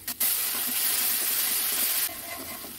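Poppy seed paste hits hot oil with ginger and green chilli in a pan, bursting into a loud, close, continuous hiss that drops back after about two seconds.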